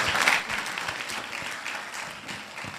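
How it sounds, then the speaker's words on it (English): Applause from the audience at an entrepreneurship festival opening conference, a short burst of many hands clapping that peaks at the start and then settles into a steady, fading patter. "Can we give a round of applause for Joanne this morning?"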